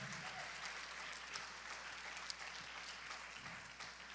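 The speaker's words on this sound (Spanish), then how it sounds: "Dele palmas fuerte al Rey, hermano." A church congregation claps loudly for the King during a Sunday morning service, a steady dense wash of clapping with no talk on top.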